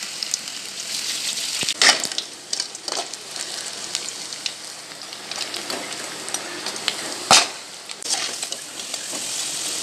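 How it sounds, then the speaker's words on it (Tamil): Pakoda pieces frying in hot oil, a steady close crackling sizzle with brief sharper pops and spatters throughout, no voices. "ஸோ பக்கோடா வந்து எண்ணெயில் போட்டாச்சு கொஞ்சம் நேரத்தில் ரெடி ஆகிடும்"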